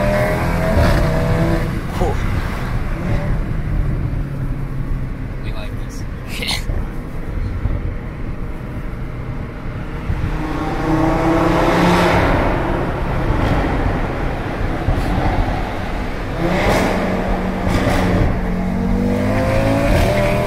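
Audi RS3 running a Dyno Spectrum DS1 tune accelerates hard, the engine note rising and swelling through the second half with gear changes, heard from inside over road noise.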